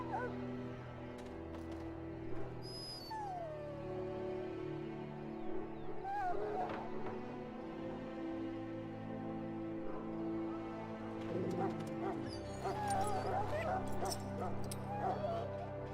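Dog in the fantasy role-playing game Dragon Age: Origins whimpering, yipping and letting out short barks in scattered bursts over a steady layer of game background sound, with no talk.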